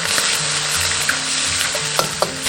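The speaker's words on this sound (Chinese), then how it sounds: "下入料头炒香。" Aromatics stir-fry in a hot wok while a rattan-pepper fish dish is cooked, a loud, steady oily sizzle filling the whole moment, with a couple of brief utensil clinks near the end.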